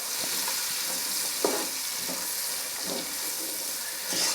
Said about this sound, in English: And then again, fry that up.